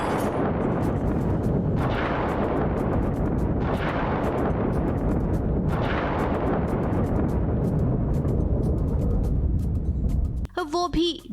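A gunshot sound effect in a Hindi TV drama dream scene gives three heavy booming blasts about two seconds apart, each trailing off in a long echo over a continuous loud bed, then closes with a short ringing musical sting.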